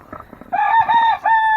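Backyard hens cluck and squawk loudly and close by, a few low calls giving way to a sustained crow-like cackle, with no talking.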